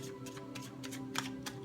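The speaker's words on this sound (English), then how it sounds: "let's do a third shuffle" A tarot card deck being shuffled, a soft, quick run of riffling card flicks close up over a low steady background hum.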